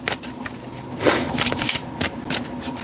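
Crisp, rapid riffling bursts of cards being shuffled, several quick flurries in a row, close and fairly loud with no talking.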